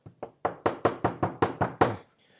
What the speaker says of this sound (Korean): 아까와 마찬가지로 도미노 칩을 하나씩 넣어줍니다.